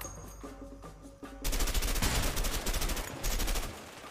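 Loud, continuous automatic gunfire in the A Way Out video game, starting abruptly after a quieter moment and rattling on in a steady rapid stream.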